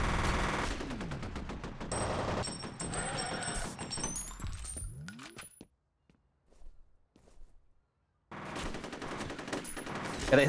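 Rapid gunfire in a video game, loud bursts of automatic shots with sweeping effects, then a few seconds of near silence before the firing resumes.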